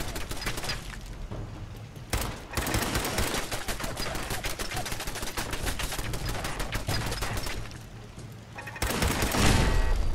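Rapid turret gunfire in Fallout 4, a dense, loud stream of automatic shots running almost unbroken for about ten seconds, dipping briefly near the start and end before surging again.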